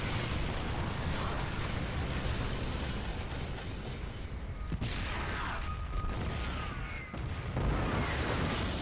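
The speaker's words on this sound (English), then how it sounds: "It's kind of fun watching auto turrets explode." Auto turrets in StarCraft 2 blowing up in a dense run of bursts and pops with mechanical clatter, loud and continuous, with a sharp crack near the middle and more blasts toward the end.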